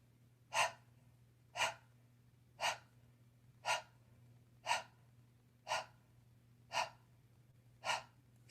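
Slow, exaggerated breaths during a breathing exercise for singing, eight sharp, evenly spaced airy puffs about a second apart, close and clear over a faint steady hum, with no talking.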